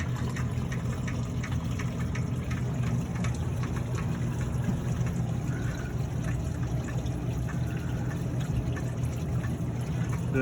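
Water gushing and splashing steadily as it is poured into the cracked-block cooling system of a 1948 Dodge five-window coupe rat rod on a 1964 Corvette chassis, a constant close wash with a low engine-like rumble underneath and no talking.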